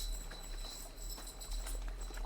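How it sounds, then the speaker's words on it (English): Rapid clip-clop of a galloping horse in a video game, steady and moderately loud, over a bright, hissy game soundtrack background. "Oh, this is a crazy horse."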